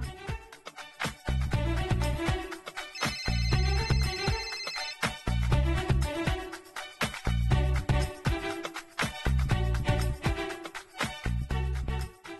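A telephone rings repeatedly in bursts, with a steady tone running through a busy, loud background.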